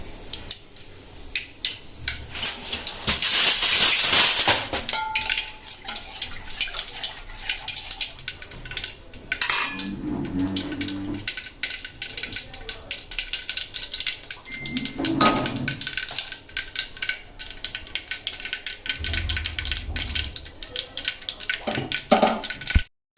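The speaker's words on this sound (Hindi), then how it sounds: "तो तड़का लगाने के लिए रख दिया है।" Steady sizzling and crackling of spices tempering in a hot pan, with a few clanks of utensils and metal pots, and no talking.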